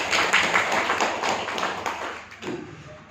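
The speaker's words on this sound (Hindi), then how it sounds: "चलो ताली तो बजे उसको" An audience claps together in a hall, a close burst of rhythmic hand claps lasting a few seconds before fading.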